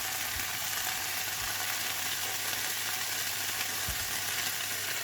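Pak choy being stir-fried with soy and oyster sauce sizzles loudly and evenly in a hot pan, with a few low knocks from stirring beneath the constant hiss.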